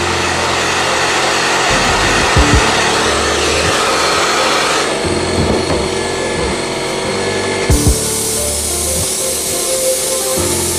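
Spray gun misting paint onto the body of a 1946 Dodge Power Wagon RC wrecker, a steady close hiss that runs for about eleven seconds, with a few brief pauses and light knocks along the way.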